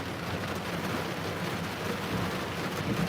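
Heavy rain pours down steadily during a thunderstorm in Massachusetts, a dense, loud, continuous hiss with no breaks and no voices.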